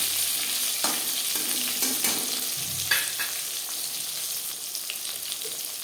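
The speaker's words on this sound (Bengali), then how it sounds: "তেল গরম হয়ে গেছে বেগুন ঠিক তেলটা দিয়ে দেবো" Eggplant slices fry in hot oil for Bengali begun bhaja, giving a constant loud sizzling hiss close by with a few scraping clicks and spatters scattered through it, no voices.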